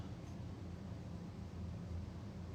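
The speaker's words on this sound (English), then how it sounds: "fan just kicked on in the other room." An electric fan runs in another room, a steady, low, broadband whoosh that is faint and continuous, with no voices over it.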